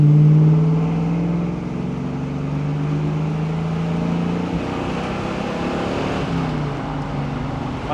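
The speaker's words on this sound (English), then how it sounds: "This thing has a nice free-flowing exhaust." A 1971 Chevrolet Camaro SS 396 with a four-speed manual and free-flowing TIG-welded exhaust revs loudly up close, the V8 note climbing and holding, then dropping back and rising again, with no talking.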